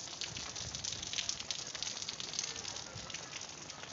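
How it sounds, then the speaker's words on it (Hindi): Heavy rain pouring down in Karachi, a steady dense hiss of falling water with faint splashes, continuous and fairly soft throughout. "और तेज़ बारिश का सिलसिला जारी है कराची के मुख्तलिफ इलाकों में"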